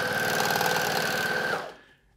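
A Juki MO-104DN/MO-114DN overlocker runs at speed with a loud, steady mechanical whir and rapid stitching rhythm, then winds down and stops near the end, alone without talk.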